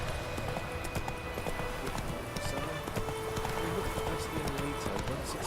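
Hooves of the horse Roach clip-clopping at a gallop in The Witcher 3, a quick, steady rhythm of close thuds continuing without pause under ambient game sound.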